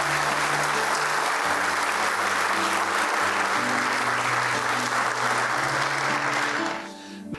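A congregation applauds during a church service, loud steady clapping over sustained keyboard chords that runs for about seven seconds before quickly fading near the end.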